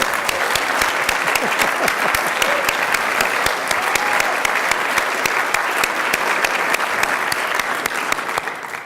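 An audience at a climate leadership gala applauding, dense sustained clapping from a large crowd that holds steady at full strength for the whole stretch.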